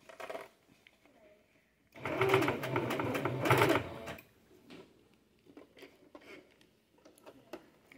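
A sewing machine stitches a stretchy swim skirt in a short, loud whirring burst of about two seconds, then goes quiet apart from faint handling clicks, with a person talking softly around it.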